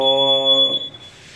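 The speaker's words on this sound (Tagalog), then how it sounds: "nag-function naman yung ating fire alarm system once na pinus natin yung manual call point" A fire alarm system sounds after a manual call point is pressed during testing of a newly wired FDAS, giving a loud steady multi-tone electronic alarm that holds for under a second and then cuts off, leaving low background noise.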